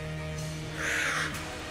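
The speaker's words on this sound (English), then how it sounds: "It's a giant bird with a minigun." The Gatling Gull, a giant minigun-wielding bird boss in the video game Enter the Gungeon, lets out a single loud, harsh caw over a steady droning game soundtrack.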